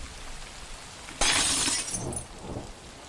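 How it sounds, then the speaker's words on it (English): A window downstairs shatters in a horror story told during rain, one sudden loud crash of breaking glass followed by scattered tinkling fragments over a soft background of rain. "A window downstairs shattered."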